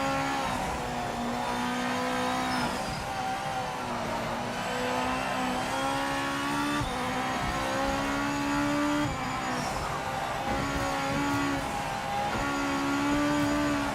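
A race car engine in the Project Motor Racing 2.0 video game, revving and droning continuously with rising and falling pitch through gear changes and corners, loud and steady for the whole stretch with no talk.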